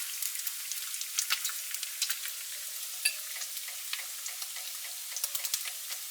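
Bacon sizzles in its own fat in a cast iron frying pan, a constant fine crackle with scattered sharper pops and spits, moderately close and with no voices over it.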